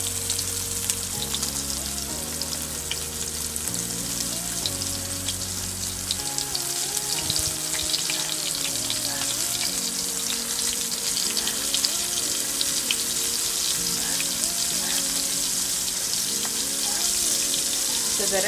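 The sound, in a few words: coated Bombil (Bombay duck fish) frying in hot oil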